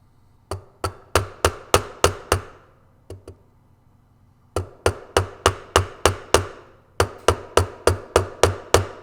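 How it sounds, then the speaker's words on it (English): A hammer strikes a guitar fingerboard to seat it in place during fingerboard radiusing, with sharp, close, evenly spaced blows in several bursts and brief pauses between them. "I'm hammering it. I'm totally hammering it,"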